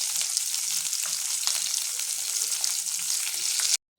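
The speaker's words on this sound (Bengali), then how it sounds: "খুব বেশি ভাজবো না, একটু হালকা করে ভেজে নেব" Potatoes fry lightly in hot oil in a kadai for aloo dum, giving a loud, close, steady sizzle with faint occasional stirring taps before it stops abruptly.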